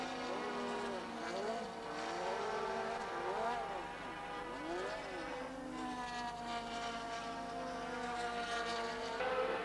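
Formula 3000 race cars at the 1987 Spa race: high-revving engines wail past in overlapping waves, pitch rising and falling as cars pass at close to middle distance, with a steady loud drone throughout.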